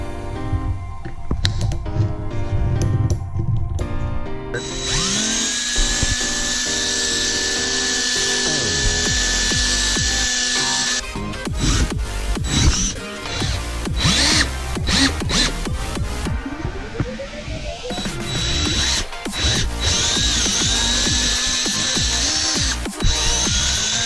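A power drill drives a screw extractor into a stripped screw, whirring in long loud bursts that rise and fall in pitch, broken by stops, restarts and grinding clicks throughout, close up with no speech.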